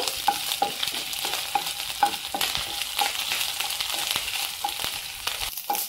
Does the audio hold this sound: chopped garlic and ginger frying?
yes